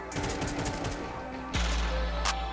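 Automatic rifle fire in Counter-Strike 2 rattles out in a rapid burst, followed by a heavy boom and a single sharp crack, all close and loud.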